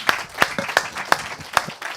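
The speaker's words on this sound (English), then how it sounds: "A big round of applause to our panel speakers." Applause for panel speakers at a blockchain expo event in Dubai, heard as sparse, evenly spaced sharp claps, close and distinct, with a few fainter claps between them.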